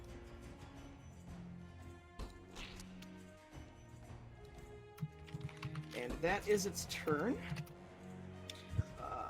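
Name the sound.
typing on a computer keyboard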